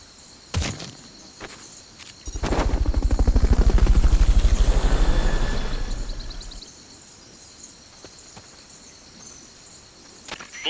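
A helicopter in Metal Gear Solid Peace Walker swells in with a rapid rotor chop, holds loud for several seconds, then fades away, leaving a quiet background with a few faint clicks.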